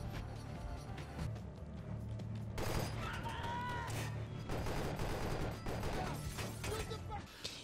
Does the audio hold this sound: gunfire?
yes